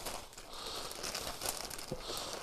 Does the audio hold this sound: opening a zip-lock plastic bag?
yes